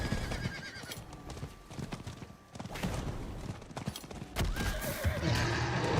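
A horse in the Diablo 4 video game gallops with clip-clopping hooves and neighs over busy in-game combat effects.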